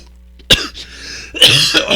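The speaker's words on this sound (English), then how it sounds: "Sorry, I had to cough." Two sharp throat-clearing coughs burst out close to the microphone about a second apart, loud and abrupt against near silence.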